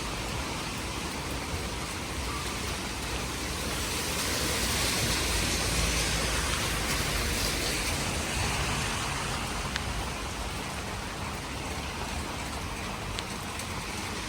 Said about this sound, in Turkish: Abi ne yağmur yağıyor be.